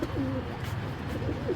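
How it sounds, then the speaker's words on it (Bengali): Several Giribaz pigeons cooing close by, the soft rolling coos repeating in a slow rhythm with no talk over them. "এই যে আরেক জোড়া কবুতর দেখাইলাম ভাই।"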